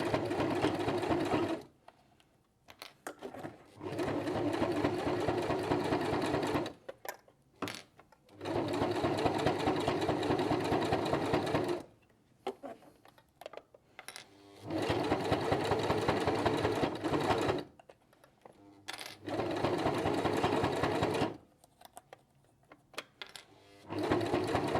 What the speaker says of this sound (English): that should really help the machine not skip any stitches